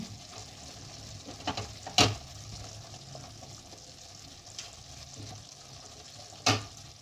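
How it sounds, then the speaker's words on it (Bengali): A spoon stirs curry in an open pan, with the lid off and the oil separated, over a steady low sizzle. Sharp scraping clacks come at irregular moments, two of them especially loud. "ঢাকনাটা খুলে একটু নাড়ালাম"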